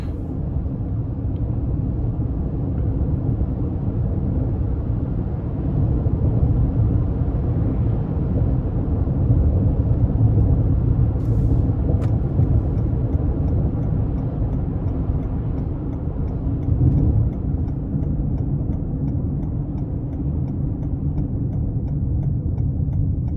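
A 2021 Toyota Highlander XSE rolling down a bumpy road, heard from inside the cabin as a loud, steady low rumble of road and engine noise with faint thumps, no voices.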